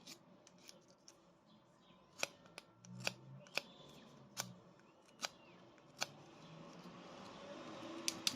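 Someone cuts wood to remove embedded resin, with a series of sharp, quiet snips or clicks spaced about a second apart over a soft background hiss.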